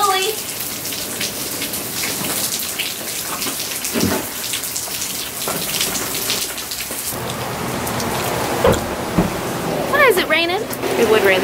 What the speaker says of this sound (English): I don't know where the rain came from.